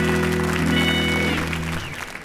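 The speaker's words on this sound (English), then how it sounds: "Give that man a big round of applause." Audience applause at a comedy show, a short burst of clapping over a sustained musical chord that fades out within about two seconds.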